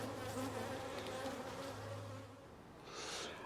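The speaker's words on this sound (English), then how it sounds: "There's the bees." Honeybees hum steadily at an opened hive, a close, low droning buzz with wavering pitch that swells briefly near the end, without any talking.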